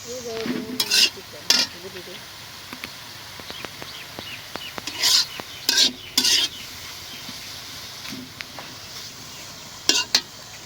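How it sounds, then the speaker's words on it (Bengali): Pumpkin leaves fry in a pan and are stirred, with a soft sizzle broken by repeated sharp scrapes and clinks of a spatula on the pan, heard close up. A faint voice is briefly audible. "এখন দিয়ে দিলাম মিষ্টি কুমড়া শাক, এটা ভাইজে নিই।"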